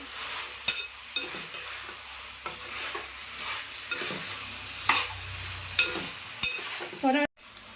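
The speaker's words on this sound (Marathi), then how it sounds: "याचं ना व्यवस्थित परतून घ्यायचं" Chicken sautéing in a pan for white chicken pulao, a continuous sizzle with repeated sharp spoon scrapes and knocks at irregular intervals, close up, ending in a sudden cut.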